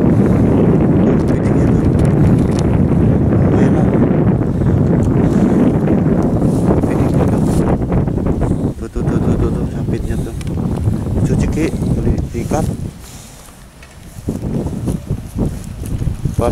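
Wind buffets the microphone on a riverbank embankment at night, a steady rumbling roar that stays loud throughout and dips briefly near the end, with people talking over it.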